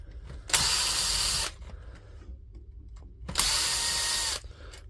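Two bursts of a power driver backing screws out of a DeWalt angle grinder, each about a second long and loud at close range, separated by quieter handling noise.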